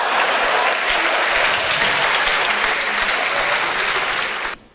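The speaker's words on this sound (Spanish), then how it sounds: "Un fuerte aplauso para él." Loud, dense audience applause fills a comedy show, many hands clapping steadily and close, then cutting off abruptly at the end.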